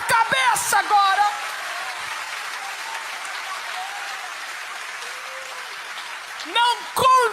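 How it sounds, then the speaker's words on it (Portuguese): A church congregation claps with hands raised above their heads, a sustained wash of applause running through the middle while a voice speaks or sings at the start and end. "Você pode aplaudi-lo acima da tua cabeça agora."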